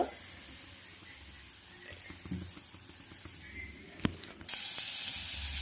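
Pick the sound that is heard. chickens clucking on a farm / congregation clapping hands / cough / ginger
ginger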